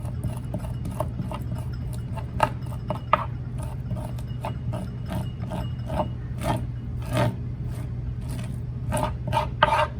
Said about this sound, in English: hold your sinew down and then do small, like quick scrapes just to get everything out